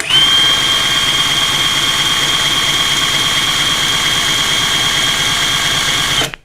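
A Heimerdinger LB266 cordless impact wrench runs at first speed with a loud, steady high-pitched motor whine that holds constant for about six seconds and then stops abruptly, heard close with no talking.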